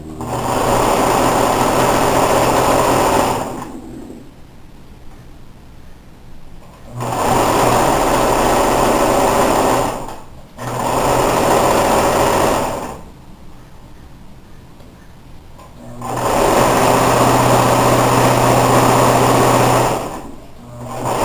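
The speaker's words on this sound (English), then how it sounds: "I'm going to sew about 5/8 of an inch." A sewing machine stitches a blazer seam in several sustained runs of steady, buzzing whir, each lasting a few seconds and separated by quiet pauses, close and loud with no speech.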